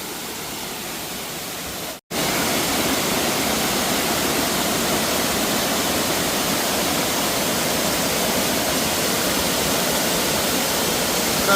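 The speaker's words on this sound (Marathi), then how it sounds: "आणि या साईडचा एक छोटो धबधबो आणि आकडी बघा मोठं" A small monsoon-season waterfall in the Konkan region roars as a steady, loud, unbroken rush of falling water that continues alone after a brief dropout near the start.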